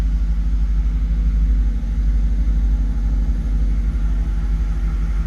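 A 2002 Chevrolet Camaro SS SLP with about 9,000 miles runs steadily, its engine giving off a low, continuous rumble that stays loud and even with no talking over it.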